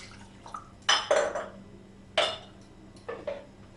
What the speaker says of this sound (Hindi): दो गिलास पानी डालेंगे।